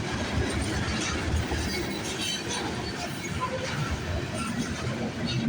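CN freight train M397, bound from Toronto's MacMillan Yard to Kirk Yard in Gary, Indiana, passes steadily with a low rolling rumble and a dense patter of wheel clatter throughout, moderately near.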